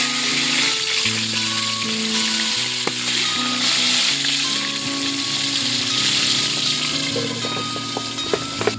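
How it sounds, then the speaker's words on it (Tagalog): Milkfish (bangus) sizzles and crackles steadily in hot oil in a pan, a close, dense frying hiss with occasional pops, and no talking over it. "Magpiprito muna tayo dito ng bangus bago natin itong sasabawan."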